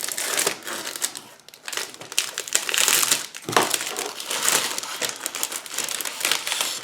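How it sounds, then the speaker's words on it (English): Old plastic bags from a British Mastiff 2 6x6 Protected Patrol Vehicle model kit crinkle and rustle continuously up close, loud and busy with brief lulls between handlings. "Nice old crinkly bags."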